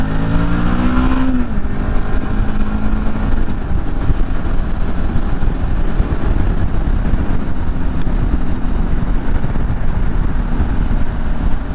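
A Suzuki V-Strom 800DE 2023 motorcycle engine runs loudly and steadily throughout, with a brief rising rev at the start, then a continuous rumbling drone.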